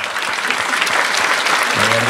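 An audience at a Spanish-language ceremony honouring adults who learned to read and write bursts into dense, sustained applause, close and loud for about two seconds, before a voice begins to speak.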